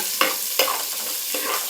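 Small onions sautéing in a hot pan for a fish curry, a close, steady sizzle broken by three bursts of stirring scrapes as the pieces are tossed, with no talk.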